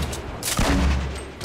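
Gunfire in the video game Fortnite sounds as a short burst of rapid shots, loud and close, with a heavy boom in the middle of the volley.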